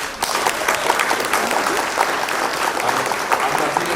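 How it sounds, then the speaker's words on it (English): An audience at a book fair launch applauds, a dense, steady burst of many hands clapping that fills the room and runs at full strength from start to finish. "I want to give them a very big round of applause"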